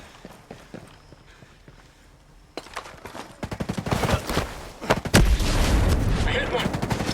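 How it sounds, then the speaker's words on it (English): Ghost Recon Breakpoint firefight, with a quiet stretch of light footsteps and movement giving way to loud rapid gunfire bursts and heavy impacts that continue to the end, a voice speaking briefly underneath. "There's a sniper about to fire on us."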